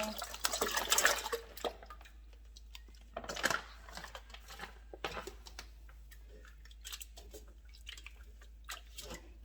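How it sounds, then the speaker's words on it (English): Shrimp splash and patter into a bowl of water in two quick bursts, followed by faint drips and clinks. "Just pour the shrimp in."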